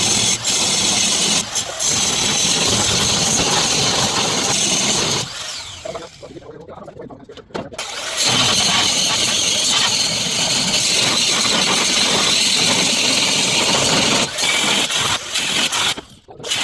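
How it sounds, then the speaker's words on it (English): An angle grinder cuts through welds on a steel staircase, a loud harsh grinding whine that runs continuously, drops away briefly midway, then resumes. "So I'm going to start removing these welds right here with the grinder"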